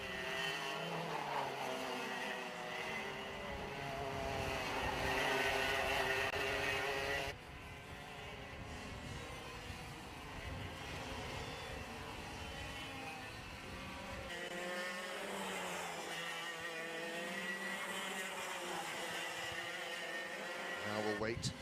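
Racing karts in a Daniel Ricciardo Series round at Clay Pigeon Raceway drone along the start-finish straight, engines buzzing at a distance and shifting in pitch as they pass, under continuous commentary.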